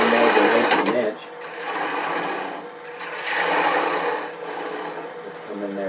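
A wood turning tool hollows a shallow recess, under an inch deep, in a ring bowl of flawed wood spinning on a lathe. A loud, close, raspy scraping comes in continuous bursts with brief easings between passes.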